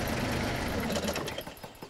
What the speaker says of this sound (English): Sorry, Ted, I couldn't hear you with the engine on